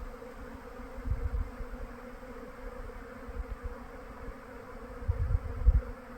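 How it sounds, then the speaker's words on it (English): Swarm of bees at a nest in hot Southern Arizona, a faint steady humming drone with soft low bumps, quiet and close. "It's a lot of bees."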